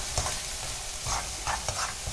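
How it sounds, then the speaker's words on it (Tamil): Masala sautéing in oil for a brinjal kuzhambu, a soft continuous sizzle broken by several short scraping stirs of a spoon in the pan. "அந்த எண்ணெயிலேயே மறுபடியும் இந்த மசாலா வதக்கி"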